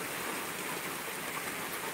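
Heavy rain pours down steadily outside a covered porch, a dense, continuous hiss of water with no pauses, fairly close and unbroken by voices.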